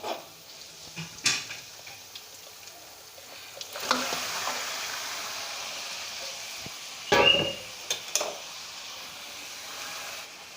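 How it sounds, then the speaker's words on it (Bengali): Marinated chicken drops into a wok of fried spices and oil, then sizzles in a steady soft hiss broken by a few louder clanks and stirring sounds, with no voices. "আমি এখন এই ম্যারিনেট করা চিকেনটা কড়ার মধ্যে দিয়ে দেব"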